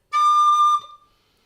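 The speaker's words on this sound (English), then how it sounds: "A low D will often go up the octave without you wanting it to and sound like this." A recorder's low D overblowing and jumping up the octave, giving a bright, pure whistle-like tone held for just over half a second before breaking off with a short tail, alone and close.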